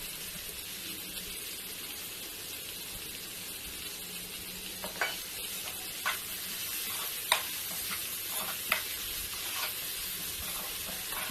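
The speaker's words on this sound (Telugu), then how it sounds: "గరిటెతోటి బాగా కలబెట్టాలి." A pot of broad bean and onion curry sizzles steadily on the stove while a ladle stirs it, adding a series of sharp scraping clicks against the pan in the second half.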